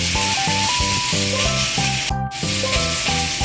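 Chicken marinated in inasal style fries in a pan with a steady, close hiss of sizzling that runs continuously under rhythmic background music.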